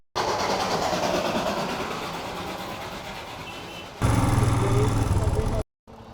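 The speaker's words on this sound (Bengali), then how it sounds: "এগুলো টয় ট্রেনের স্টিম ইঞ্জিন।" Toy train steam engine on the Darjeeling line running near Batasia Loop in fog, a loud continuous rumble and rattle that surges louder toward the end and then cuts off abruptly.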